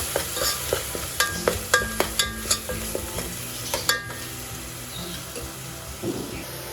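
Fresh grated coconut frying in a pan, with a series of sharp spoon scrapes and taps against the pan over a steady low sizzle, close and fairly loud.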